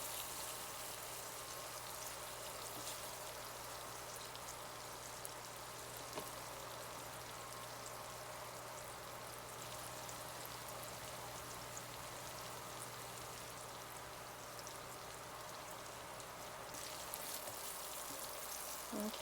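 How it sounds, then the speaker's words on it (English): Pork going into a pan for Bicol Express and being stirred, a steady close hiss of sizzling like light rain throughout, with faint scraping of stirring and no talk. "we're adding in the pork right now, and we're just going to stir everything all together"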